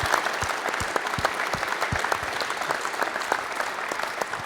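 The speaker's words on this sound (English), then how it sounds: "That's a round of applause moment." An audience gives a warm round of applause at an event celebrating Jaguar's 1988 Le Mans win with the XJR-9, with steady, dense clapping and sharp individual claps standing out throughout.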